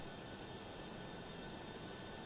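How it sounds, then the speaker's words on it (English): A Boeing 737-600 jet takes off in Microsoft Flight Simulator, its engines producing a dense, steady roar with a thin high whine, loud and unbroken throughout. "The 737-600 is such a formidable jet."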